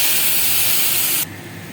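A ground paste of poppy seeds and cashews with yogurt hits hot oil in a pan, setting off a loud, close, bright sizzling hiss that holds steady, then abruptly drops to a quieter frying hiss.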